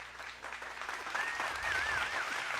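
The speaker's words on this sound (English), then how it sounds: "And the crowd goes wild." Crowd applause on a television talk show, a broad wash of clapping that swells and holds steady at moderate volume, with a faint whistle-like tone riding above it partway through.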